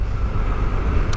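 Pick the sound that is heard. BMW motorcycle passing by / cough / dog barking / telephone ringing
BMW motorcycle passing by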